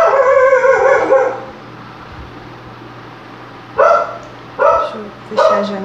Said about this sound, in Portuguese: Vocês ignoram o latido do cachorro, tá? Porque tá perto aqui da janela.